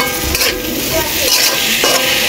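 Ginger, onion and garlic pastes going into a pan of frying onions while cooking a rohu fish bhuna, sizzling steadily up close with spoon stirring and scraping against the pan, no talk.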